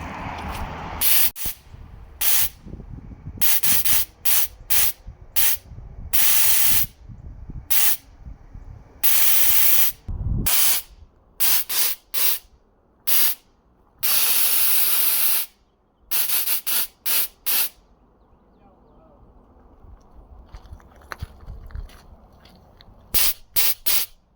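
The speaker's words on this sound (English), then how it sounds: "It's working. It's not spraying as much as I thought, though." Sharp bursts of nitrous gas spray in and out of a rebuilt nitrous solenoid, some brief and some held for a second or more, loud hisses separated by quiet gaps.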